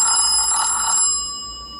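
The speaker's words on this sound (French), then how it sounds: "j'ai oublié de vous faire la sonnerie" An Ulefone Be Touch phone plays its ringtone, a loud electronic ringing pattern that sounds for about a second and then fades away, with no voices.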